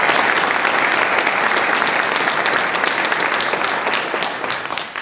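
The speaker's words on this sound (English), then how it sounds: "Let's give them a round of applause, please." A crowd at an elementary school ribbon-cutting ceremony gives sustained applause, a thick even wash of clapping that holds steady and softens slightly near the close.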